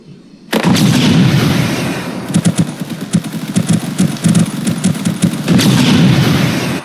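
A smoke grenade goes off in an Unreal Engine 5 shooter: a loud, sustained burst of rushing noise with rapid cracking pops runs for several seconds, briefly eases, then swells again near the end.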